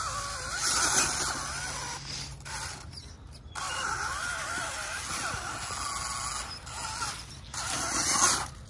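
A brushless motor on a Wltoys 10428 RC crawler cogs while crawling, giving a faint, uneven run of whirring and clicking mechanical noise that stops and restarts, with short gaps of near quiet.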